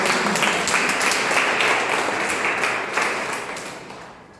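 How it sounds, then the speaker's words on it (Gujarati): A crowd applauds steadily to welcome Babubhai Parmar and Marthaben at an institution's birthday celebration for their son Amin, the clapping dense and sustained before slowly tapering off. "તો આપણે સૌ તેમનું તાળીઓથી સ્વાગત કરીએ"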